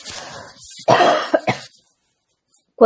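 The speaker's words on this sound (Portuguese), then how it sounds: "me deu vontade de tossir, peraí" A few sharp coughs in quick succession, close and fairly loud, then a pause and one more cough burst at the end.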